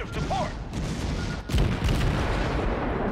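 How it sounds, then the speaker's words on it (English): Torpedo hits exploding in World of Warships, fired from a Fubuki tier 8 Japanese destroyer: dense, rumbling blasts and booms crowd together with a heavier impact midway through, loud and continuous, with no speech. "5 torpedo hits."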